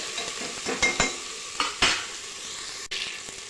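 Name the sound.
spiced rice mixture being stirred and sautéed in a pan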